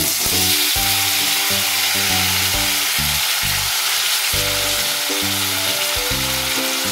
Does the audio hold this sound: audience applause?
no